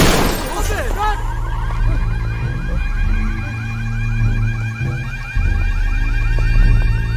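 A car is rammed in a loud crash with a sharp burst of shattering glass, followed by a wailing siren and car alarm that keep going.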